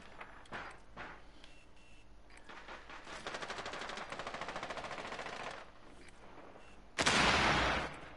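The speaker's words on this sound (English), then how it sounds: "Why did that gun shoot so slow?" Slow, spaced gunfire from a video-game weapon, a steady run of repeated shots with a sharp louder burst near the end, under game music.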